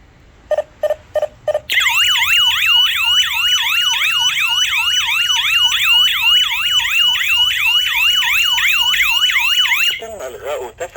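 A home anti-theft security alarm siren wails loudly in a fast, continuous rising-and-falling warble for about eight seconds, preceded by a few short beeps as it arms, then cuts off abruptly with a brief chirp at the end.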